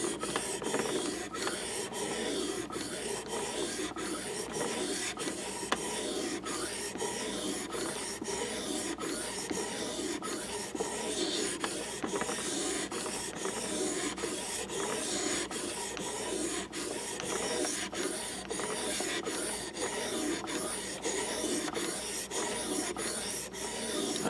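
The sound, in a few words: sharpening a Mora knife, re-beveling the edge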